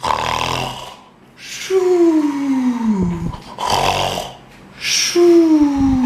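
A voice imitates loud snoring, with long rasping inhales followed by falling, whistly exhales, repeated a couple of times up close.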